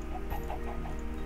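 A Minecraft chicken gives a short run of soft clucks over a steady low game hum.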